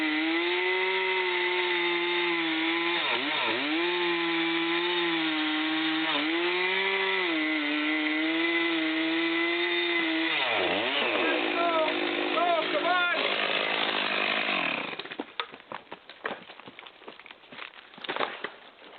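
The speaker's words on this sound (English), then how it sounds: "before starting the chainsaw." A chainsaw drones steadily while cutting a big tree, its engine pitch dipping repeatedly as it bites into wood, then breaks into rough, uneven cutting and rasping near the end.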